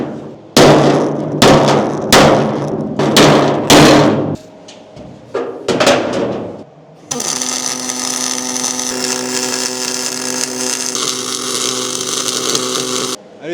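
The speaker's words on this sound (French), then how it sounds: "je vais prendre mon tas et mon marteau et je vais venir bien les raplanir" Hammer struck against a dolly to flatten aluminium jet boat sheets before welding: a run of loud, sharp metallic blows at an uneven rhythm, then a few lighter taps, followed by a steady whirring power tool.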